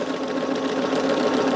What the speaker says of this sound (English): it's a sewing machine and I can still sew on it